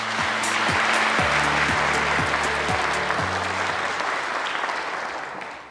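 An audience at a government national-agenda briefing breaks into dense, even applause over stepping background music, the clapping holding strong and then tapering off toward the end.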